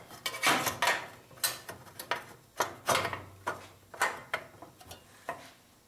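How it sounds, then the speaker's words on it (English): Metal engine shroud being fitted back onto a Briggs & Stratton 500 Series small engine, giving a series of distinct clanks and knocks at an uneven pace, close and moderately loud, with no talking. "We're ready to reinstall this uh, shroud."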